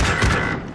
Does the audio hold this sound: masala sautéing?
no